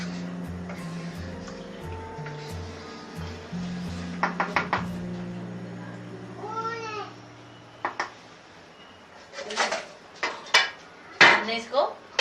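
A lid is set over a pot of cooking chicken white karahi, giving several sharp metallic clanks and rattles that cluster toward the end, over a low background hum and ticking.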